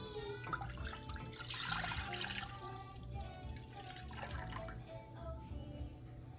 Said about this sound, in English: we're going to pour the milk into our basic saucepan here.